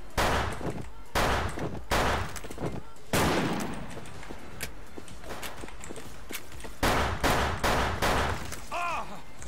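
Gunfire bursts in a mobile shooter game, with repeated broadband shots and fusillade-like volleys across the whole stretch, loud and close, mixed with footsteps and intermittent game noise; no clear speech dominates.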